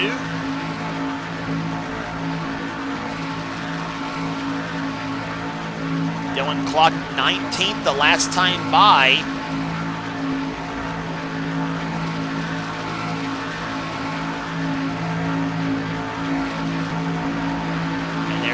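Race car engines drone steadily in a Daytona night round of the NNSCRA Castrol GTX Cup Series video game. Someone commentates over the engines, and a few brief higher-pitched engine whines cut through midway.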